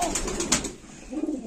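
A pigeon gives a soft, brief coo close by, with faint rustling before it.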